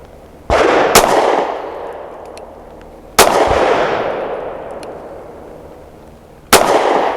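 Three loud, sharp gunshots from a Smith & Wesson M&P Shield Plus pistol firing Federal HST 147 grain rounds, each a sudden crack followed by a long decaying echo, spaced a few seconds apart with no talking.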